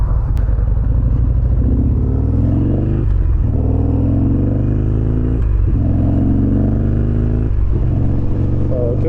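A 2009 Harley-Davidson XR1200 Sportster runs on the road with a loud, rumbling V-twin engine that rises in pitch through repeated revving pulls separated by brief gear-shift dips, while someone talks over it.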